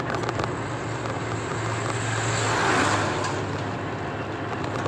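A car driving along the Girna pumping road, a continuous close engine hum and road rumble that swells slightly midway with no talking.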